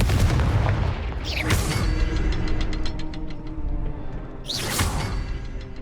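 Confringo fire spell blasts in the Hogwarts Legacy video game, two loud whooshing booms a few seconds apart over a rumbling game backdrop, each with a bright crackling burst.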